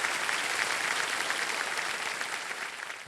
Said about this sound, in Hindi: तो एक बार फिर जोरदार तालियां बज जाएं प्रिया जी के लिए